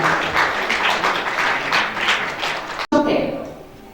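Audience applause at the 9th Korea Happiness Sharing Volunteer Award ceremony, a dense, steady patter of many hands mixed with voices, cutting off abruptly near the end and then trailing off more softly.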